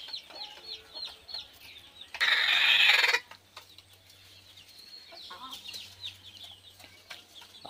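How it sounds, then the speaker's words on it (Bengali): Hens on a small desi chicken farm cluck softly and intermittently nearby, some sitting on eggs, while a burst of loud broadband noise like flapping or rustling cuts in for about a second midway. "আর এই যে এখানেও ডিম পাড়ছে মুরগি আজকে।"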